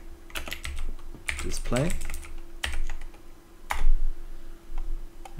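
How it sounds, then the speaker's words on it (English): Computer keyboard typing while entering shell commands to set up a DayZ Epoch server on Debian Linux, heard as scattered bursts of key clicks close by, with a voice briefly speaking over a steady background hum. "end the line with a semicolon and type export"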